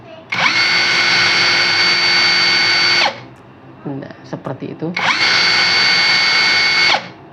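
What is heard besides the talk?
Kamolee DTW500 impact wrench running at fastest speed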